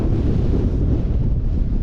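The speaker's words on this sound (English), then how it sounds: "The wind is just crazy." Strong desert wind in northern Kenya buffets the microphone with a loud, continuous low roar that swells and dips slightly but never lets up.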